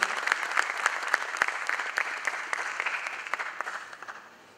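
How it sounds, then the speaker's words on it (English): Audience applause at the inaugural session of the CIO Klub IT Awards: a hall of many people clapping briskly, with individual claps standing out at first before the sound gradually fades away. "we need a huge round of applause for all of you"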